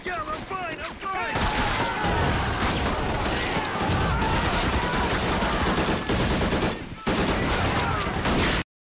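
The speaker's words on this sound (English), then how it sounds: "They're just shooting with any gun they have. Pistol, shotgun." Dense battle gunfire from the TV war series The Pacific, sustained loud bursts of automatic fire and explosions mixed with shouting voices throughout.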